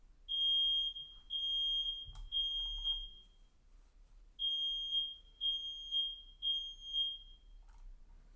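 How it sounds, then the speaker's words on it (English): A household smoke alarm under test chirps in rapid bursts of high piercing beeps, one set of about five, a pause, then another set of about five, sounding loud and close in a quiet room. "my dad's testing the smoke alarms"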